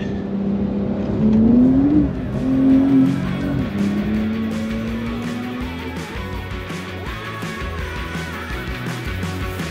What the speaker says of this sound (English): the 911 has to come into all of its torque band before the tyres break traction